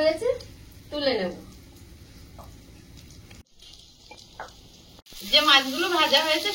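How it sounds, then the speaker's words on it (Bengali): Fish frying in hot oil makes a low sizzling hiss in a kitchen. A voice talks over it at the start and again at the end, with a brief silent gap in between. "যে মাছগুলো ভাজা হয়েছে সেগুলো তুলে নেব।"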